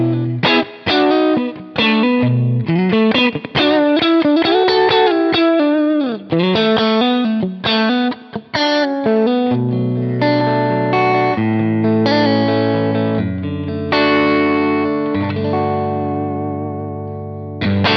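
A James Tyler Studio Elite HD electric guitar with its mid boost engaged plays a distorted, chorus-tinged lead phrase of bends and sustained notes, loud and upfront with no talk.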